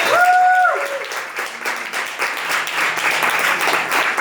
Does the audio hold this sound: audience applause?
yes